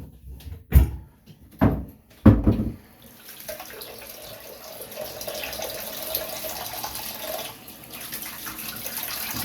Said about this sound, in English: I'm going to rinse off the head real quick